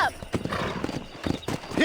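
A horse in Red Dead Redemption gallops off, hooves clip-clopping in a quick rhythm close by, with a brief whinny at the start and end.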